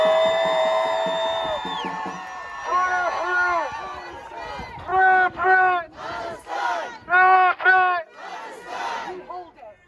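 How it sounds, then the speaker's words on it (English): A protest crowd outdoors shouts and cheers in loud rhythmic bursts of chanting, several voices together in repeated waves, with a pause between some bursts. "Make some noise, guys!"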